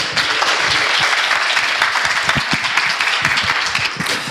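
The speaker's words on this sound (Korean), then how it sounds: "큰 박수로 환영해 주시면 감사하겠습니다" An audience at a university lecture event claps steadily and loudly for a few seconds to welcome a guest lecturer, a dense, even burst of applause with no talking.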